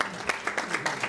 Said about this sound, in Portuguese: Vamos aplaudir a pergunta